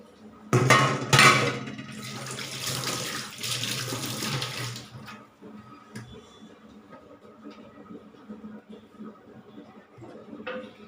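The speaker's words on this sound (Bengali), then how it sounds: "হাতটা ধুয়ে নিই" Tap water running into a kitchen sink as hands are washed, loud splashing bursts at first, then a steady softer trickle with faint clinks of dishes in the background.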